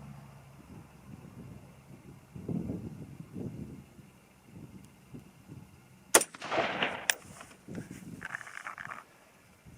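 A single sharp rifle shot fired at a target outdoors, a loud crack about two-thirds through followed by a brief echoing tail, with faint wind and low background rumble before it.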